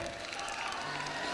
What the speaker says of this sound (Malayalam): നല്ല കൈയടി വേണം.